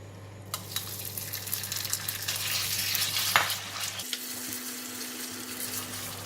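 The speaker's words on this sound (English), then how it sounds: "I have already heated up the oil, and I'm going to start off with fry the meat first." Beef sizzling loudly in hot oil in a wok, a dense steady hiss with scattered spatters and stirring clatter, close up, with a low hum underneath that shifts pitch partway through.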